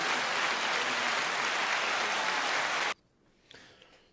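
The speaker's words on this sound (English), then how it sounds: "Did you guys hear the applause?" A large audience claps in a dense, steady roar of applause that stops abruptly, leaving near-silence with a few faint scattered sounds.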